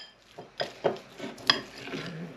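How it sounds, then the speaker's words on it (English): A spoon stirs mustard and mayonnaise together in a bowl, making a few sharp, close clinks and scrapes against the side, with no one talking. "Just mix that all together."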